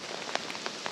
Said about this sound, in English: the rain just keeps getting worse